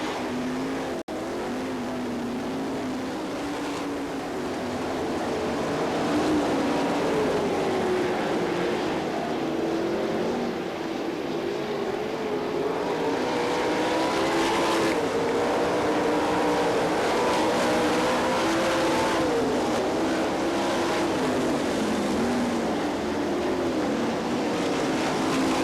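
Sprint race cars roar around the track at the Knoxville Nationals, a continuous engine drone rising and falling as cars pass, heard from a distance across the grandstand with a steady wash of noise.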